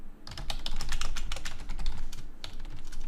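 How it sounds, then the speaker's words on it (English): Quick bursts of typing on a computer keyboard, the individual key clicks tapping rapidly and unevenly over a low background hum, fairly close, with no voices. "So now if we type in here, you can see it copies here as we're typing"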